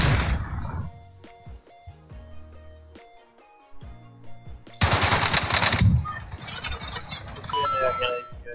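Gunfire rings out in the video game Warzone, with rapid bursts of shots, some heavy and booming and some in quick automatic strings, among game effects and music, loud and up close.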